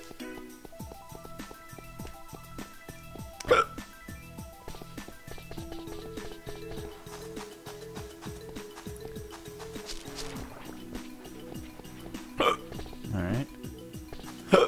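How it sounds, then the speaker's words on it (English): A gamer streaming Ty the Tasmanian Tiger hiccups a few times, the sharp jolts landing over a busy bed of game music and sound effects. "Oh, I got the hiccups."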